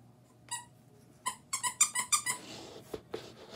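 Small Among Us plush toys squeaked by hand: a single squeak, a pause, then a quick run of sharp, close squeaks in a rapid series, followed by a few softer squeezes and faint handling noise.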